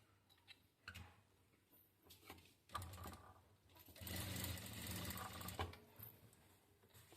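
A sewing machine stitches the shoulder seam of a katori blouse, running in short intermittent bursts and then in one longer, steadier run near the middle, close and moderately loud with no talking.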